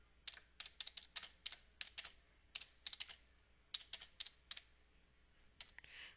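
Someone types on a computer keyboard, close and quiet, with short bursts of crisp key clicks separated by brief pauses, no voices.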